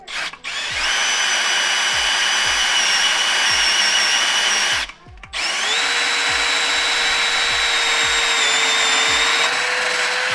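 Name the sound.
power drill drilling holes in transmission housing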